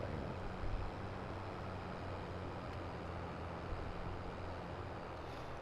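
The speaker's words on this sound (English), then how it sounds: "I know I'm still driving the tractor." A tractor drives in the Farming Simulator 22 video game, a quiet, steady low engine drone and broadband rumble that holds evenly throughout with no voices.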